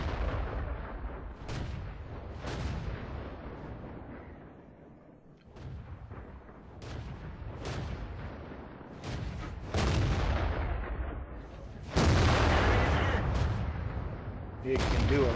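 Heavy tank cannon shots boom from the World of Tanks video game, including a KV-1S, in repeated deep blasts spread across the stretch. Engine rumble and game sounds run beneath them, and a player's voice talks at times.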